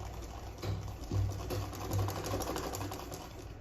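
An electric sewing machine runs a loose stitch through gown fabric, a steady close mechanical whir with short bursts of faster stitching rising and falling.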